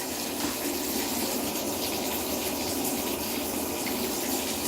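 Water pours steadily into a bathtub, a loud, close, continuous gushing with no pauses and no talk.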